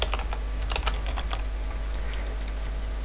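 Typing on a computer keyboard while working in 3ds Max: a steady run of close, quick key clicks with irregular rhythm over a low constant hum, with no voices.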